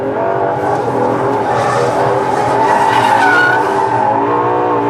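Ferrari LaFerrari hybrid engine accelerating hard through the gears on a road, a loud continuous rising engine roar with smooth climbing pitch and no talk.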